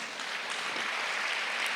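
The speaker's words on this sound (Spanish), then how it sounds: "Dale un aplauso al Señor." Church congregation applauding, a short, soft wash of clapping that sounds somewhat distant and hangs steady for a moment.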